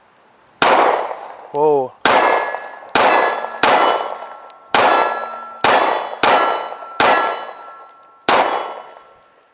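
Smith & Wesson 6906 pistol fires about eight shots at a steel target outdoors, each loud crack followed by a ringing metallic clang, spaced unevenly; a short exclamation is spoken early on.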